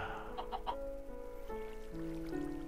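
Chickens in the video game Minecraft cluck in short, repeated calls at moderate volume, with a steady patter like rain underneath.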